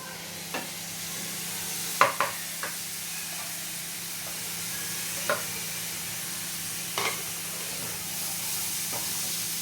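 Chopped tomatoes going into hot oil in a pan for squid masala, a steady background sizzle broken by a few sharp clicks and scrapes of stirring, fairly quiet and close, with no voices.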